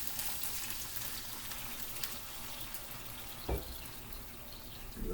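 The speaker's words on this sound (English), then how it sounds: "we're going to go ahead and just start adding just a little bit of water at a time" A little water poured into a hot pan, used for cooking scallops and broccolini, gives a steady soft sizzle and hiss with a couple of brief sharper spits, close and fairly quiet, with no voices.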